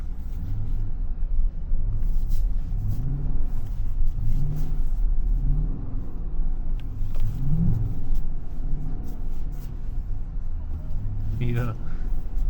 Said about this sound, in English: Let's drift this pole.